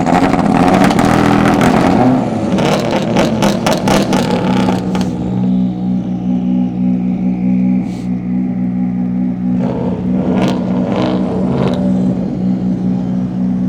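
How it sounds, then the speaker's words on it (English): Rally cars in a rev battle at a stage service stop, engines blipped and revved hard in quick bursts, loud and close, then settling to a rough idle with further sharp revs near the end. "we have a rev battle"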